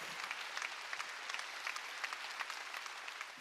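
A church congregation claps during a Wednesday worship service, a dense, steady wash of many hands heard at a moderate distance, with no talking over it.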